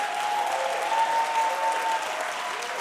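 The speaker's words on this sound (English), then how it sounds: "Round of applause for our teachers." School district audience at a State of the Schools address applauding its teachers, sustained, full applause from a large room, even and steady throughout with a faint tonal hum beneath.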